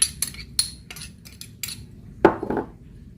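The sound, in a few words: mixing longganisa ingredients in a bowl, utensils clinking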